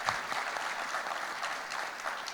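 Audience clapping steadily at a Nashik TLC Bigbash event, a dense, continuous applause from a crowd that stays even in loudness throughout, with no voices standing out.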